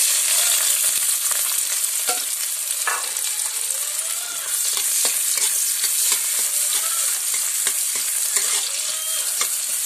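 Chopped onions and cinnamon frying in hot oil for upma, a loud dense sizzle that runs throughout with scattered crackles and light stirring.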